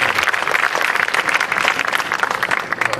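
An audience at a lobby dedication celebration applauds the master of ceremonies, a dense, steady wash of many hands clapping at close range for the whole stretch, with no voices over it.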